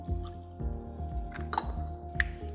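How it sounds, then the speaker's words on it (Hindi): Two tablespoons of lemon juice poured into a dish while cooking, a soft liquid trickle and drip close by with faint clinks, continuous over a low background hum. "Lemon juice 2 tablespoon"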